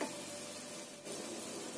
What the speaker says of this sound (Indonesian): Kita goreng sampai kering ya.